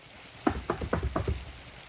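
Oil crackles and sizzles in a brief burst as pieces of crispy chicken hit the pan, a few sharp pops in quick succession close up.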